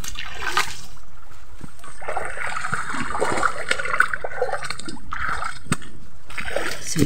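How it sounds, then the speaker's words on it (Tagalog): A flowing stream near an Aeta community, heard as a constant close rush of water with irregular splashes and sloshes over several seconds. "Yun po yung sapa."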